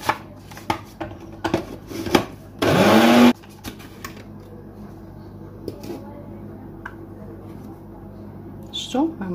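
A kitchen blender grinds almonds with sugar in one short, loud whirring burst, surrounded by a person talking and scattered clatter from handling the jar.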